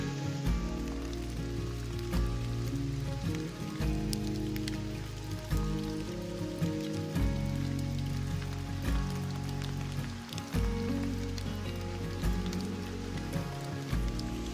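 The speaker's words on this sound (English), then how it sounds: "It has been raining non-stop for 3 hours." Steady rain falls on a muddy hiking trail, a dense continuous patter of drops on surfaces with occasional louder splats, close and unbroken throughout.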